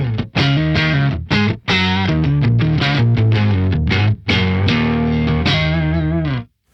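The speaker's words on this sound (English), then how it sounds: "So next up, give you the octave real quick" Electric guitar run through an OC5 octave pedal on a pedalboard rig, playing loud, sustained notes and short phrases with a thick doubled low octave under each note, stopping briefly a few times before ringing out.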